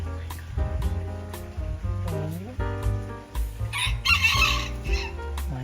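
Several backyard chickens cluck and crow close by in a busy, overlapping run of calls over a low steady background hum, with no clear talking.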